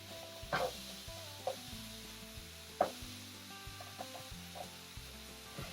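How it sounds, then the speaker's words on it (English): Diced onions sizzle softly in a pot for morel mushroom soup, a low steady fry broken by a few light clinks of a spoon against the pot. "And we've got our diced onions. And I'm just going to put those in here."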